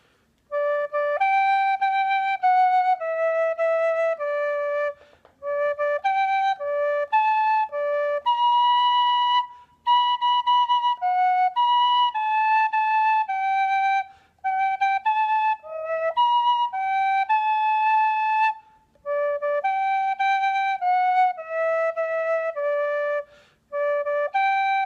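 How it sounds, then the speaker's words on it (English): An alma mater melody is played on a tune whistle: a clear, bright series of sustained whistled notes in phrases with brief breaths between, loud and close, alone without talk. "So I'm going to play it one more time on this tune whistle"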